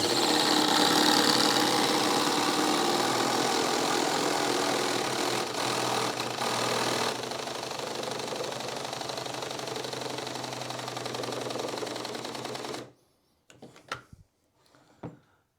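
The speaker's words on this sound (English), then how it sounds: "So let's try to drive this in, and then we'll wrap up the video." A Ryobi Quiet Strike impact driver drives a lag screw with a long, loud, continuous hydraulic whir and hum lasting about thirteen seconds, then stops, followed by a few short bursts.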